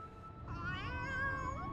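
A cat meows once in a drawn-out, wavering call that rises and falls, quiet and close against a faint background hum.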